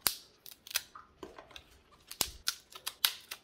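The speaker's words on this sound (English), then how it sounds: "first we're going to peel off some of the hard outer leaves" Hard outer leaves snapped and peeled off a whole artichoke by hand in a kitchen: a string of sharp, dry cracks and crisp tearing snaps at an irregular pace, close and fairly quiet, with no talking.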